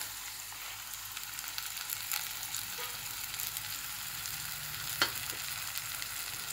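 Masala spice paste for ghugni fries in a hot pan with a steady, bright sizzle and occasional stirring scrapes, up close and without talk.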